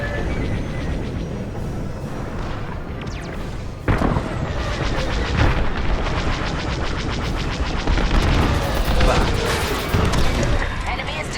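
Heavy starfighter dogfight in Star Wars: Squadrons, with continuous loud blasts, booming explosions and laser fire forming a dense, unbroken roar, plus a sharper burst of impacts partway through.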